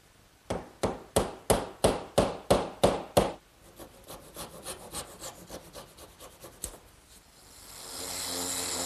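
A hammer drives a glued wooden dowel into a kitchen work table. About ten sharp, evenly spaced blows ring out, followed by a run of lighter taps and then a soft rising rustle.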